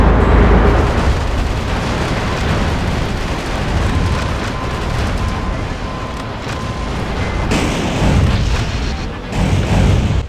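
Missile explosions in the mech action game Metal Wolf Chaos XD, producing a loud continuous roar of booms and blasts that rumble densely throughout, with a fresh burst of impacts toward the end.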